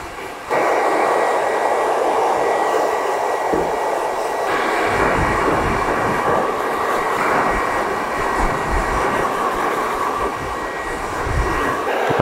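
A hair dryer blows hot air while hair is finger-dried and styled into a 90s men's haircut, producing a loud, steady whooshing roar with a faint whine that holds constant throughout, close by and with no talking.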